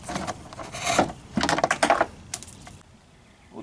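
A screwdriver turning a screw out of the rear bumper cover of a Toyota Sequoia, heard as close, uneven scraping and rubbing bursts with short pauses between turns.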